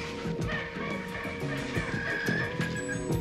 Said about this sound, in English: It was the birds, I guess.